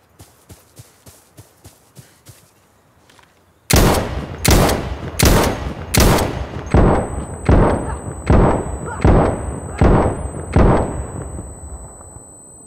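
Rifle shots from Insurgency Sandstorm ring out in a steady rhythm: a quieter run of quick shots first, then about a dozen loud, booming high-caliber blasts, followed by a thin high tone as the ears ring.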